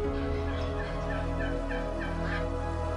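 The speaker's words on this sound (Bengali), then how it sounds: "জাপানিজ মুরগি" Japanese chickens at a farm birdhouse cluck and gobble continuously in a dense, loud flock chorus under a steady background drone.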